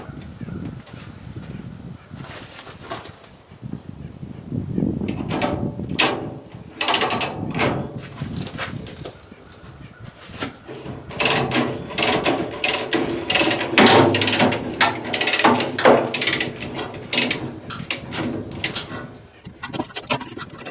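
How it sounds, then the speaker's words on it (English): Come-along hand winch ratcheting down during a bush hog repair outdoors, a run of clicking and clattering metal bursts of varying loudness, close by, with some talk mixed in. "let's let the come along down and see what happens"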